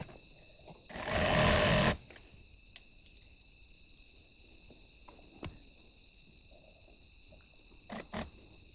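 An electric sewing machine stitching stretched elastic onto fabric runs in one loud, buzzing burst of about a second, followed by quiet handling clicks and taps against a faint steady background hum.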